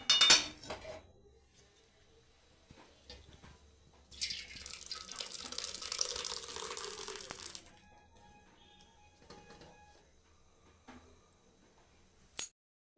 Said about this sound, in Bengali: এবার একটা ছাঁকনিতে ছেঁকে নেব।